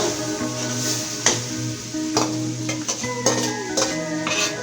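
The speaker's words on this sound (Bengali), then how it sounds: "এখন আমি ভেজে রাখা চিংড়ি মাছগুলা কচু শাকের মধ্যে দিয়ে দিব।" Fried shrimp stirred into taro leaves in a hot pan give a steady close sizzle, broken by several sharp scraping clanks of a spatula against the pan.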